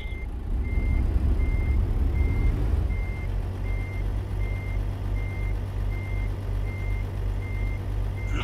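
Steady evenly spaced reversing beeps sound from a semi truck backing up in American Truck Simulator, heard over a constant low diesel engine rumble with no talk.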